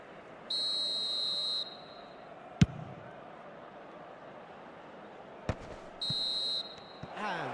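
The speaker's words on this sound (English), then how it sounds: "And the whistle goes for half-time." A referee in the eFootball video game blows a whistle for half-time: a few shrill whistle blasts spread over several seconds, with sharp thumps in between and low stadium crowd ambience underneath.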